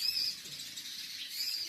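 A small baby sparrow chirps in thin, high, faint calls at the start and end of a brief quiet moment, heard close with no voices.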